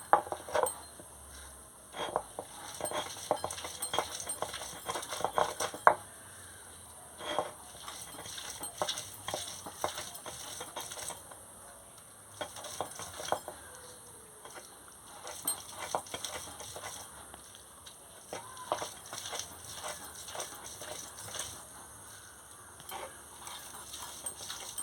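Pumpkin leaves being ground into a paste by hand, heard as faint, irregular scraping and light knocking strokes that repeat steadily for a long stretch with no voices.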